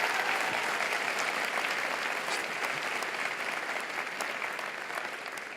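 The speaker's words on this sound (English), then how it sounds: "Give his son a huge round of applause." An audience gives a sustained round of applause, a broad wash of many hands clapping at an even level that slowly tapers toward the end, with no talking over it.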